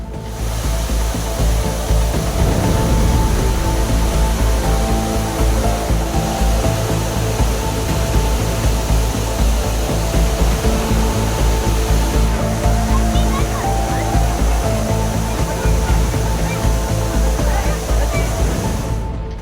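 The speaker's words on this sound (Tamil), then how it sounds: "பொள்ளாச்சி அடுத்த ஆழியார் கவியருவியில் ஏற்பட்ட திடீர் வெள்ளப்பெருக்கின் காரணமாக" Aliyar Kavi waterfall near Pollachi, in a sudden flood, gives off a loud, unbroken roar of rushing, crashing water that stays steady and close throughout.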